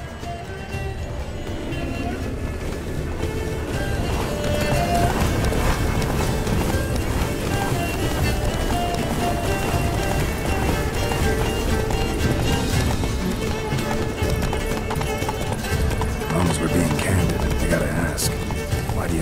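Hooves drum fast and steady as a horse gallops in The Witcher 3, a continuous loud beat running under a game's background score and occasional speech.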